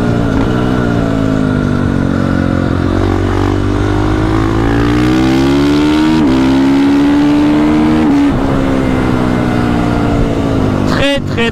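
A prepared supermoto motorcycle, a tuned 500, revs hard nearby, its engine pitch climbing and dipping through several sustained pulls before sharp blips at the end, loud and close.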